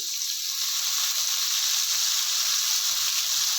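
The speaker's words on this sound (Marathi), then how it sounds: "लगेच आपल्याला कांद्याची स्वच्छ चिरलेली पात अशी टाकून घ्यायची आहे" Chopped spring onion greens hit hot oil seasoned with turmeric and hing, giving a steady, loud broadband sizzle that holds evenly throughout, with faint stirring thumps near the end and no talking.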